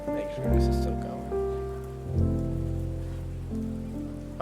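Steady rain patters over a café ambience with slow jazz music playing, the sustained chords and rainfall continuing throughout at a moderate level with no speech.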